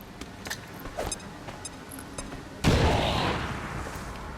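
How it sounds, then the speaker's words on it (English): A grenade blast erupts loudly partway through in the XCOM 2 video game, a broad booming burst that rolls and decays over the remaining seconds, preceded by scattered sharp gunfire cracks and clicks. "Grenade out!"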